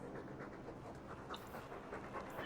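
A dog panting in the video game Dragon Age II, a steady quick rhythm of breathy huffs, close and continuous over a soft background hum.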